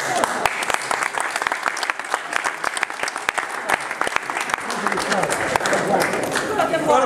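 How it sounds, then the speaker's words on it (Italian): Steady audience applause fills the space at an architecture event in Novara, dense and sustained with many hands clapping throughout. "Un applauso."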